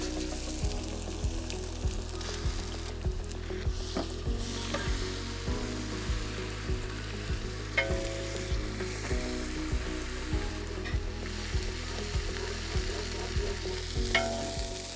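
Onions with bay leaf and garam masala sizzle steadily in hot oil for veg pulao, with a rhythmic scrape of stirring repeating about every half second. The sound is close and continuous, with no talking.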